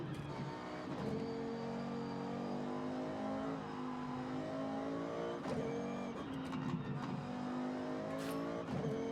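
A rally car engine revs hard and steadily throughout, with rising and falling tones and a few sharp throttle blips, loud and close with no talking.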